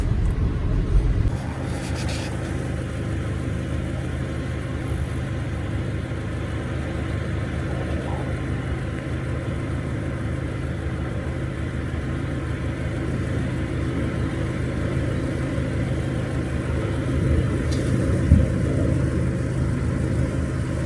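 Cars drive slowly into a wildlife trail on Sanibel Island at sunset after Hurricane Ian, a close, steady low engine rumble with idling and gentle revving that continues throughout, with no talking.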